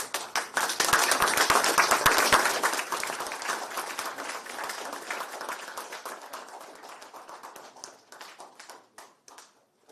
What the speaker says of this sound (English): I want you all to please clap so loud.